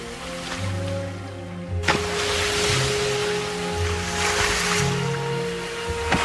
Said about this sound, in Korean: 이런 파도가 있는 아주 위험한 곳이에요.